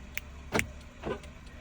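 The door locks of a 2007–2014 Mercedes-Benz GLK, worked by its remote key, give a few crisp mechanical clicks and thunks at close range, spaced about half a second apart.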